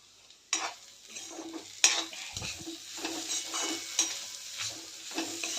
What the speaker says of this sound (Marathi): मध्ये मध्ये थोडा वेळ पण भाजी परतून घेऊया